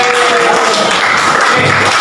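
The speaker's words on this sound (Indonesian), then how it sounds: "beri tepuk tangan untuk kita semua." A classroom breaks into steady, dense applause, many hands clapping together in a continuous loud wash that fills the room without pause.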